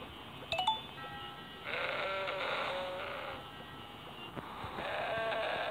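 A goat character in the Crossy Road video game gives a couple of bleats amid bright game chimes and electronic jingles, heard at moderate volume without speech.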